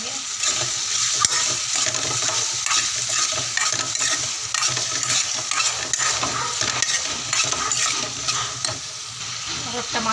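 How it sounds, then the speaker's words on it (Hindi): Crushed paneer and tomato fry and get stirred in a pan in a home kitchen, a steady close sizzle broken by scraping stirs throughout, loud and continuous with no talking. "और टमाटर गलने तक ढक के पकाएंगे इसे।"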